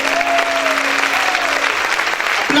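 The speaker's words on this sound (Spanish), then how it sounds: "Aplaude fuerte al Señor." A church congregation applauds loudly and continuously, a dense steady roar of clapping with a sustained tone ringing underneath.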